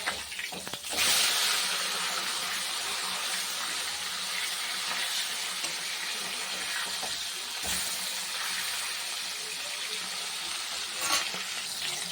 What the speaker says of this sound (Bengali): তেল গরম হয়ে গেছে, মাছটা দিয়ে দিলাম।